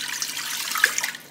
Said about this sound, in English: in a large pot, I'm going to pour in